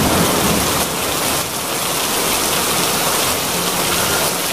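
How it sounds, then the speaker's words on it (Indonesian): Heavy nighttime rain pouring steadily on surfaces with thunder rumbling underneath, loud and close, a dense continuous roar with no voices. "hujan cukup lebat disertai suara petir yang membuat suasana di luar sangat mencekam."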